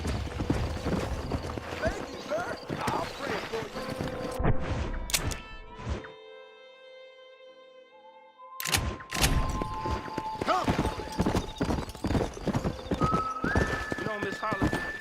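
Horse hooves clip-clop and a horse whinnies in the Western video game Red Dead Redemption, the hoofbeats running steadily under game dialogue and ambient music, with a brief quiet lull midway.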